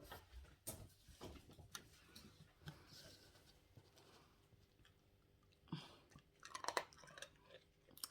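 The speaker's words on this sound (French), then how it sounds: "Tiens, Macho, petit sucre, viens." A pet animal crunches a sugar cube, soft close chewing and crisp crunches scattered over several seconds in a quiet room, with faint household noises.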